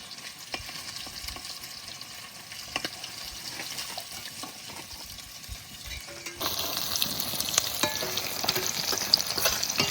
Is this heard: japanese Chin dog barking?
no